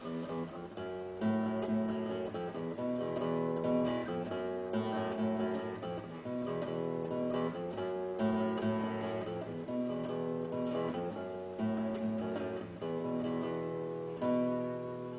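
A repeating electric guitar riff from a song, with a steady, slightly wavering tone, played continuously and fairly loud with no voices.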